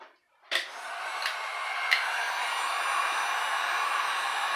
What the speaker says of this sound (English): Grab this heat gun.